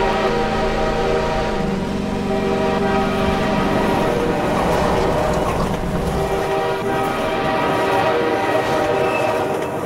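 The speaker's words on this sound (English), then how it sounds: "That is the normal horn for Razor Chain." Train horn in the video game Half-Life 2, a loud sustained multi-tone blast over rumbling rail noise and clattering wheels that carries on steadily for about ten seconds, with no talking.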